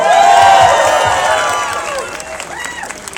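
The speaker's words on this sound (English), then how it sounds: "let's give her a round of applause" Crowd at a presidential campaign rally in Detroit bursting into applause and cheers, loud at first and then fading over a few seconds.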